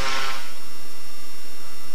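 A turboprop engine held near redline torque during a ground runup, a steady loud whine with constant tonal hum, a brief louder burst at the very start, then an unchanging drone.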